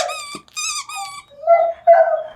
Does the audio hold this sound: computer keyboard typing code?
no